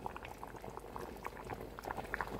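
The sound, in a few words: fish curry boiling in a pot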